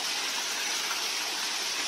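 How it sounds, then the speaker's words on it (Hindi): Heavy monsoon waterfall at Raigad fort, a loud continuous gushing roar of falling water, steady and close with no pause. "ऐसे बहुत सारे पानी का वाटरफॉल मिलता है"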